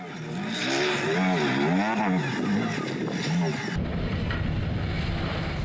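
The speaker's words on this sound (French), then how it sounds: "Mais le départ de Harry Hunt au volant de sa Peugeot Maxi impressionne aussi." Peugeot Maxi rally car launching at the start of a Silk Way Rally 2018 stage, its engine revving loud and close before the sound cuts abruptly to a rougher, steady roar.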